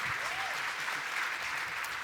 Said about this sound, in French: Hey, merci Francis, Christophe, une belle main d'applaudissements pour nos conférenciers.